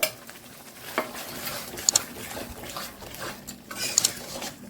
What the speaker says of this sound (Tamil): இப்போ பச்சை மிளகா போட்டுடணும்.